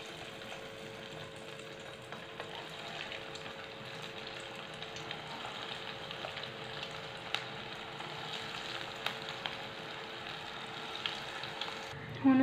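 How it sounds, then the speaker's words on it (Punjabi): Potato and bread snacks frying in hot oil, a steady quiet sizzle and crackle heard close up with soft clinks, no talk, ending with a brief louder knock. "ਹੁਣ ਚਲੋ ਇਹਨੂੰ ਫਰਾਈ ਕਰਦੇ ਹਾਂ।"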